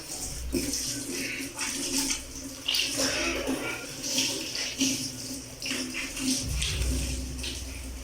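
Running water from a kitchen sink tap splashes steadily while a dish is washed under it, close and continuous with clinks and shifting flow.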